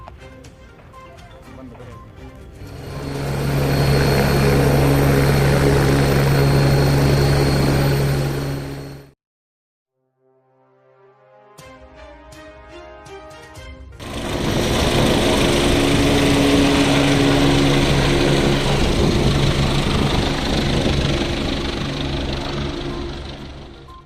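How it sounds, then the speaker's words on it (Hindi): A helicopter lifts off from an outdoor rally site in Lalitpur, a loud close roar of engine and whirring rotor that builds, drops out briefly, then returns strong and sustained, with voices faintly underneath. "ललितपुर से उनका जो उड़न खटोला है थोड़ी देर में उड़ने वाला है"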